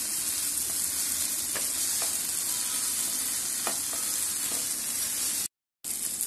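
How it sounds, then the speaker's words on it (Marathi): Ginger garlic paste sautés with softened onion and tomato for a spicy prawn masala, giving a quiet, even sizzle with a few light stirring taps, then a short silent gap near the end. "आता मी याच्यामध्ये आलं लसणाची पेस्ट घालते एक चमचा। छान परतून घेऊया आपण।"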